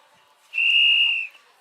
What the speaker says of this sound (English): That's the whistle being blown.